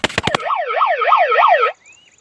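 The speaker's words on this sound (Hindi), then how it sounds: "ये सायरन भी बज रहा है" A few sharp electronic chirps give way to a loud warbling siren from an animal-repelling device, rising and falling in quick regular sweeps, then cutting off abruptly.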